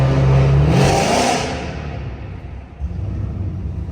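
Pontiac G8 engine revving hard inside a road tunnel at night, a loud deep roar echoing off the walls, then easing into a steady lower rumble with a brief second push near the end.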